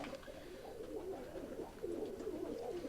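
Racing pigeons coo softly and continuously inside a loft, a low, murmuring chorus of overlapping throaty calls at moderate distance with no voices.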